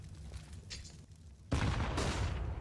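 Gunfire and grenade blasts in a CS:GO professional match: a faint crackle of shots at first, then a loud burst of explosions and rapid fire that fills the rest of the moment.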